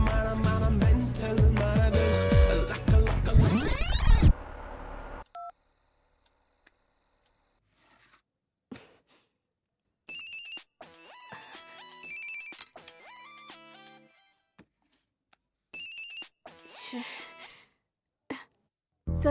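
A telephone being dialed and then ringing in a Hindi-dubbed action film: after a loud burst of music cuts out, sparse electronic beeps and repeated high ringing tones sound in near silence.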